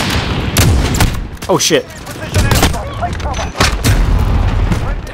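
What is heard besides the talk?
Desert Eagle pistol gunfire from a video game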